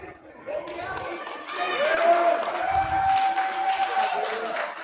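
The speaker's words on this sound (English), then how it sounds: "lots of yelling in the Hound Dome" A gym crowd at a Fort Madison vs. Quincy men's wrestling match yells and claps loudly, with a sustained whistle-like tone midway and general commotion throughout.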